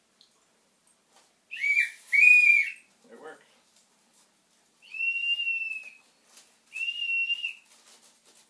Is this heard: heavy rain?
no